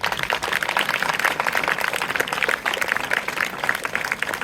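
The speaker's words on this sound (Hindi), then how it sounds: "इन दोनों के लिए जोरदार तालियां।" Steady, dense clapping from a crowd at a district-level youth parliament event, sustained throughout at an even, moderately loud level with no talking.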